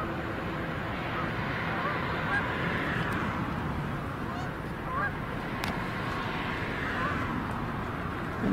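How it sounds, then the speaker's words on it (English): Canada geese honking on a wetland shared with ducks, scattered calls carrying from a distance over steady outdoor noise. "Some Canada geese that you're hearing."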